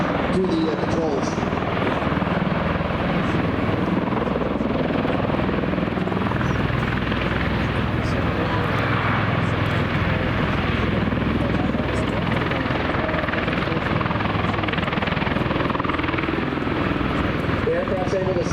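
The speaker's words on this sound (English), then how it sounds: "The aircraft's able to slide left to right there simply by changing the amount of power it's putting into each of those engines and tilting the rotors" An MV-22 Osprey tiltrotor aircraft hovers and slides sideways, giving off a loud, steady rotor and engine roar that runs unbroken throughout.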